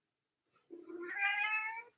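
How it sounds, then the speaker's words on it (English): A pet cat meows indoors from close by: one drawn-out, rising and falling meow after a brief chirp, with quiet surroundings and no talking. "just like meowing"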